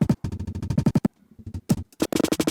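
Pitched-up, glitchy drum loop made with granular synthesis, playing alone as rapid stuttering bursts of clicks and tones that break off into brief gaps before restarting.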